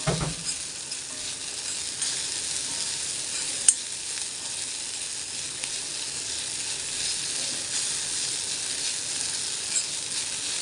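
Sabudana mix cooking in a pan for sabudana puliyodare, a loud continuous sizzle throughout with a single sharp utensil tap early on and no speech.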